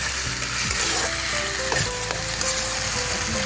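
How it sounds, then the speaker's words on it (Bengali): Spice masala with cumin and coriander powder frying in a pan for an egg chana curry: a steady, loud sizzle with scattered scraping taps from stirring, and no voices. "দিয়ে মশলাটা আমি ভালো করে কষিয়ে নেব"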